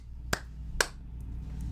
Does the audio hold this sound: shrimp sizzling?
no